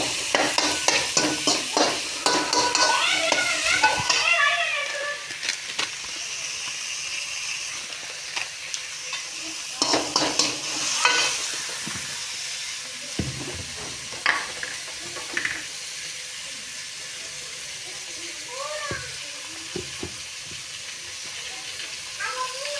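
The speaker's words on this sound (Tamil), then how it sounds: "வெங்காயம் தக்காளி போட்டு வதக்கி வந்து நல்லா" Onions and tomatoes sauté in a pan with a constant sizzle under frequent scraping and stirring strokes, some sharp clatters and a few quieter stretches, close by.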